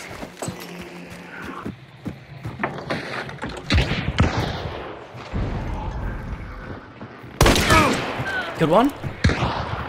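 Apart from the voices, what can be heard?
chaos bomb crackling in the video game Hunt: Showdown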